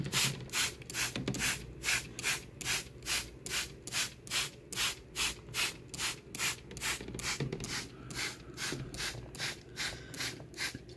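A spray bottle mists a reptile enclosure in a long series of short, even hissing squirts, about two per second, close and fairly soft.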